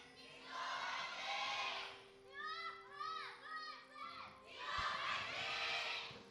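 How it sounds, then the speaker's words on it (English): A packed esports studio crowd at a League of Legends LCK Spring 2018 match between KING ZONE DragonX and SK Telecom T1 roars and cheers in loud swelling waves, with an announcer voice in the middle. "as you guys can probably tell by the thunderous applause, the studio is entirely packed out"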